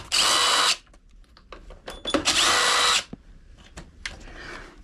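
Power tool bursts, likely an impact wrench, unbolting the carburetor on a pit bike: two loud sustained runs of about a second each, separated by quieter clanks and handling noises, close up with no talk.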